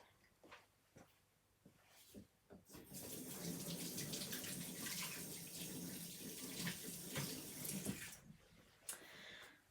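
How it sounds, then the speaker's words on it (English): Hands washed under a running kitchen tap while cake decorating: a few soft knocks, then the tap gushes steadily for about five seconds with splashing before shutting off, fairly loud and close, with no talking. "let me go and wash my hands for a second"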